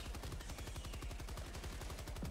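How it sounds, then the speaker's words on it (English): Sustained rapid machine gun fire in the Helldivers video game, a fast, even stream of shots rattling continuously throughout. "I love this machine gun."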